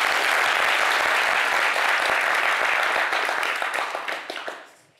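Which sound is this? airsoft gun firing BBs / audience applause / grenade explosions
audience applause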